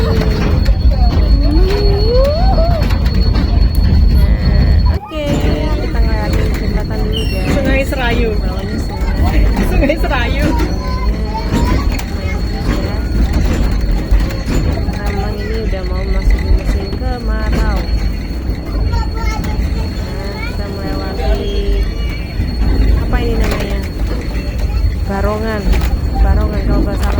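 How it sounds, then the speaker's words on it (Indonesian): Steady rumble of a moving locomotive-hauled tourist train carriage near Cepu, Blora, Central Java, fills the clip, with a brief jolt partway through and people chatting over the rolling noise. "Jadi first time nih adik Kari naik kereta kayak begini."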